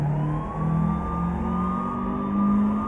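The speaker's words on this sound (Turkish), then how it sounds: "Sireni sen aç." Police car siren in the Euro Truck Simulator 2 video game, a steady wailing tone rising and falling continuously at moderate loudness, with engine rumble underneath and no talking.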